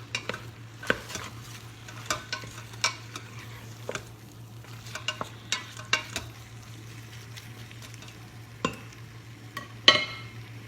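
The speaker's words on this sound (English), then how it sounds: "I'm gonna add that in. Give it a good stir." Seasoned flank steak cubes are stirred in an Instant Pot, giving a soft steady sizzle broken by irregular scraping clicks of a utensil against the pot, with one louder clatter near the end.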